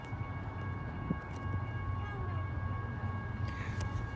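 A train in Flagstaff rumbles past with a steady low roar, a faint high-pitched tone drifting over it throughout.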